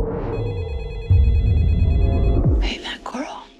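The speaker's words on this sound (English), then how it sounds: "Hey, baby, your phone is ringing." A mobile phone rings with a steady electronic tone over low background rumble, and a person speaks over it before a thud and more talk near the end.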